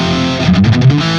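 A guitar amp with its JEL mod switch on plays a gritty, distorted tone: a short sustained chord with rough buzzing overtones, close and fairly loud.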